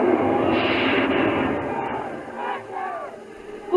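Roaring crowd at a 1993 USHRA Monster Wars monster truck event in Louisville, a dense, steady wall of cheering and screaming fans from a large arena, with brief engine-like swells underneath.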